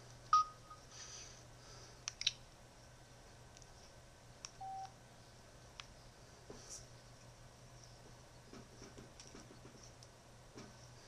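Telephone dialing tones, a few distinct beeps scattered among soft clicks and taps over a faint steady hum, fairly quiet and close.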